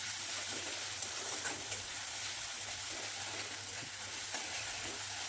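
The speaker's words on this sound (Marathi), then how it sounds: "ठेचा चांगला परतून घ्यायचा आहे" Thecha, a green chilli paste, sautés in oil in a kadhai for sabudana khichdi, a faint, even sizzle with soft stirring scrapes throughout.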